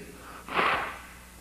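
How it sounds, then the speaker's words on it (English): A single short nose blow, a breathy snort lasting about half a second, close and moderately loud against a quiet room, with no talking. "I wish I knew a way to blow my nose without getting it recorded,"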